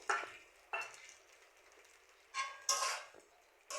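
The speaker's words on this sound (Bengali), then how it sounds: "আর এদিক দিয়ে একটু পর পর মাংস ভাজাটাও নেড়ে দিচ্ছি।" Frying chicken is stirred in a pan with a spatula, a few brisk scraping strokes at irregular intervals over a soft, quiet sizzle, heard close with no talk.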